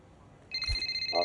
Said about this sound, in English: Oh, we've got a phone call.